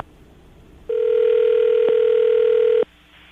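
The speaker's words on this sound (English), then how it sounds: "we're going to dial the phone number right now" A telephone dial tone sounds alone as a steady, loud hum that starts abruptly after a quiet moment, holds for about two seconds with faint clicks, then cuts off.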